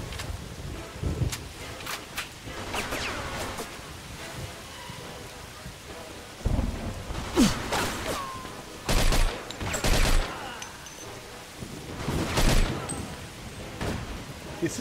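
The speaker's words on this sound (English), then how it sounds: "This is a pretty effective gun, actually." Gunfire from a gun in the video game Mafia 2 comes as bursts of rapid shots over a constant rain-like hiss, with heavier volleys spread through the scene.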